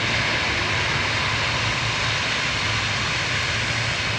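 A Cabo Verde Airlines Boeing 757-236 jet at Lisbon airport taking off, heard as a steady, loud, broadband engine roar with a low droning hum, continuous and unbroken throughout.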